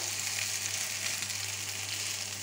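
A cod fillet sizzles in a pan, a dense, even hiss that stays close and steady throughout, with a faint low hum beneath it and no voices.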